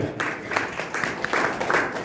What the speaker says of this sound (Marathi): तर सरांसाठी टाळी द्या.